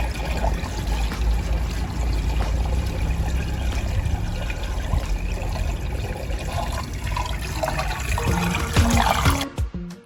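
Water draining through PVC pipe fittings into a bucket, a steady close pouring and trickling that runs continuously before cutting off near the end.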